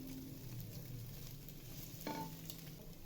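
Carrots fry in a pan while a spoon stirs them, a faint, close sizzle with soft scraping and a brief clatter midway.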